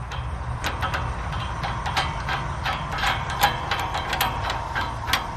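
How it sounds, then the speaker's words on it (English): Wrench tightening bolts on a JAPA 405 firewood processor: a steady run of quick metallic ratcheting clicks, close and moderately loud, over a low mechanical rumble. "I'm just going to use the old-fashioned method of a wrench"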